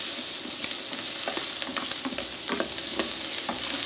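Mirepoix browns in a pan with a steady, close sizzle, broken by scattered scrapes and clicks of stirring throughout.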